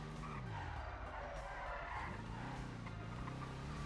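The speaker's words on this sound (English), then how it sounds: "Handbrake on this thing is too strong." A car's tires skid and squeal as the handbrake is pulled in a roleplay video game, a sliding screech rising and falling over the engine, with brief talk in the background.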